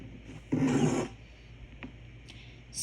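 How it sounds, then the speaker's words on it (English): An embroidery hoop slides free of an embroidery machine in one short, close scraping rub, followed by a few faint clicks and taps. "and slide the hoop free."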